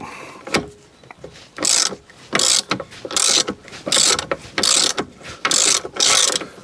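A ratchet on a 24mm socket loosens the steering wheel nut of a Fiat 500, giving about seven bursts of rapid clicking in an even back-and-forth rhythm, close and loud, with short pauses between strokes.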